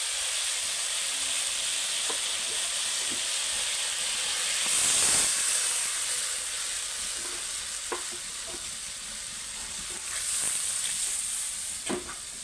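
Steady loud sizzling and hissing of a hot pan with potatoes as water goes in for a Bengali fish curry, a bright steam hiss swelling around the middle and again near the end, with a few soft clinks, no voices.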